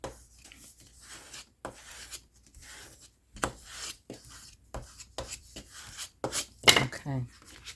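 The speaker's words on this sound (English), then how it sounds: "burnish everything down" Paper craft pieces for an autumn-themed tag kit are burnished flat with a tool. Soft, close rubbing and scraping strokes come in short bursts with pauses between them, faint overall, with a brief sharper scrape near the end.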